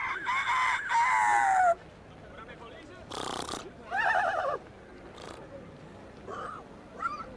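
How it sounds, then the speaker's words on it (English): A rooster crows loudly outdoors, a long rising-and-falling call followed by a few shorter squawks and clucks from nearby fowl, with background noise and brief talk around it. "Non, le coq, allez."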